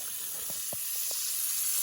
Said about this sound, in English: Got the old iron skillet going